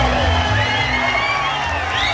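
Fight night crowd cheering and roaring steadily after a main event bout goes the distance, a dense sustained wall of voices with whoops rising above it.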